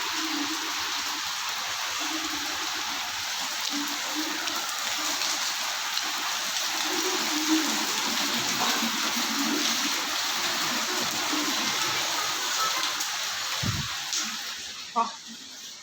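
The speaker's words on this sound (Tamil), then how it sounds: "பயங்கர மழை ஸ்டார்ட் ஆகிடுச்சு" Heavy rain pours down steadily in a dense, broadband hiss throughout, with a few louder splashes near the end.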